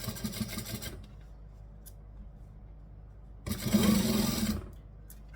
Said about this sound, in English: Now I just need to top stitch.